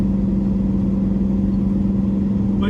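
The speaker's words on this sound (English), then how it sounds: "Now we're going to bring the truck a little bit closer." A Peterbilt truck engine drones steadily nearby as the truck is driven closer, a loud, even low hum with constant throb.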